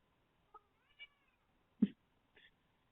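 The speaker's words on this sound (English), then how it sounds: "My cat's going a little crazy tonight." A house cat meows several times indoors, short faint calls spread apart with one louder yowl in the middle.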